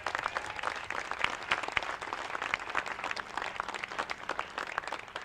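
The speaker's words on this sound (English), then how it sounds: "Let's give Al another big round of applause." A crowd at a museum opening in Forest Park gives a big round of applause to a man named Al, dense steady clapping from many hands with no voices over it.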